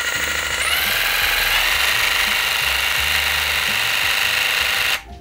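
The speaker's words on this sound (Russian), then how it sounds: "данный лобзик работает на холостом ходе, пока не начнет получать нагрузку согласно регулятору оборотов" A Makita DJV182 cordless jigsaw runs at idle with a steady high mechanical whine and buzzing blade stroke, rising slightly in pitch early on, then cutting off abruptly near the end.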